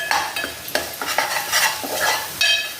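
Spice masala with cumin powder and salt roasting in oil in a pan for a village-style country chicken rassa, bright sizzling with brisk, rhythmic spatula scrapes close up, no voices.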